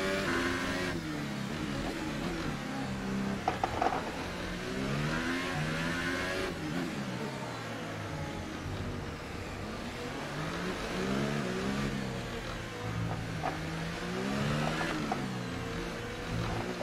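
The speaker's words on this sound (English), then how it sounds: "Nice engine sound." A McLaren Formula 1 car engine in the F1 2018 racing game at the Monaco Grand Prix, revving and shifting steadily with rising and falling pitch sweeps, loud and continuous throughout without talk.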